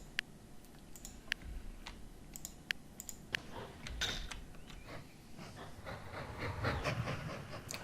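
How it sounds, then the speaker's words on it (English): A train runs along the rails in the railway-building game Mashinky, giving a steady mechanical rumble broken by sharp clicking ticks at irregular moments, with the sound swelling gradually toward the end. "So we get another train running from up here."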